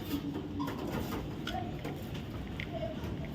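A red pied pigeon coos faintly in short, soft notes over a steady background hum.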